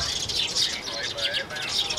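Sparrows swooping down to a bird trap chirp in a busy, continuous chatter of thin high tweets, fairly close and steady across the moment.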